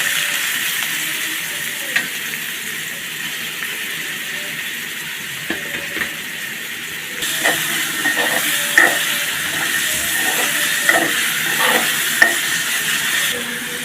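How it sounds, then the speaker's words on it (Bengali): Chopped garlic and onion frying in hot oil for a Bengali rohu fish curry, a steady broadband sizzle running throughout, growing slightly louder midway with scattered stirring clicks and scrapes from the pan. "রসুন কুচি দিয়ে দিলাম, সাথে পেঁয়াজ কুচিও"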